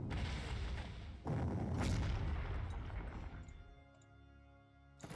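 Artillery fire in the Panzer Corps strategy game, a rumbling boom that swells after a second and decays slowly into a quieter tail, with a faint second thud near the end; no talk.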